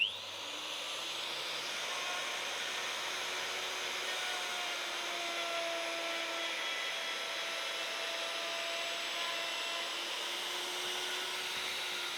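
Router cutting a wooden centerboard foil for a boat, a steady high-pitched whine held evenly throughout at moderate level, with no talk.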